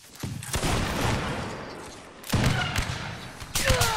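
Musket volleys crack out during a Mount & Blade Napoleonic Wars line battle, a ragged fusillade of several shots in clusters with gaps between them, loud and reverberant, with faint voices in the background.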